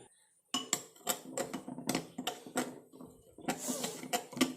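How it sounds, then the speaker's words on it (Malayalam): A spoon clinks and scrapes in a small bowl, mixing instant coffee powder into a homemade natural hair-dye pack, with a series of close, sharp knocks and scraping strokes after a brief silent start. "ഇൻസ്റ്റൻറ്റ് കോഫി പൗഡർ ഇതിട്ട് നമുക്ക് നല്ലപോലെ ഇളക്കി യോജിപ്പിച്ച് കൊടുക്കുക"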